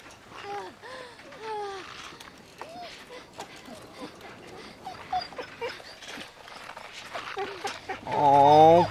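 A wounded dog whimpering in pain in The Walking Dead video game, with high, wavering whines that rise and fall in a series through the middle and grow into a louder, sustained cry near the end, under background game sound.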